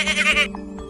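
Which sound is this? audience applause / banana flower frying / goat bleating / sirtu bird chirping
goat bleating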